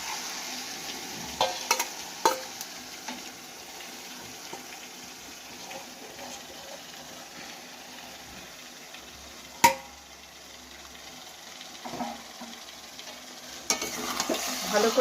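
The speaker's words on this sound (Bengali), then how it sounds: "ভালো করে কষিয়ে নেব।" Mutton with browned onions fries and is stirred in a pan for dhaba-style mutton kasha, a soft, steady sizzle with scattered scraping clicks and one sharp knock, close but fairly quiet, without talking.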